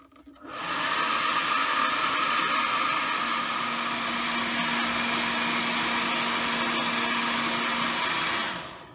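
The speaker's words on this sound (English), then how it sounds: "Use the hairdryer just on this side now so we can get that bottom corner" A hair dryer switches on and blows at full power for several seconds on a Toyota Celica headlight to dry out condensation, a loud steady whooshing roar up close, then winds down at the end.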